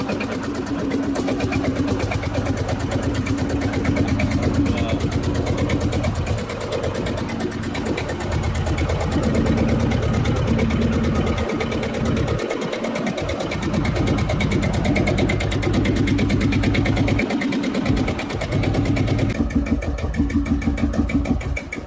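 A 1947 tractor engine, started by firing a 12-bore cartridge to charge the cylinder, runs at a steady, loud idle throughout, its low chugging beat continuous with brief rhythmic dips in the lower range.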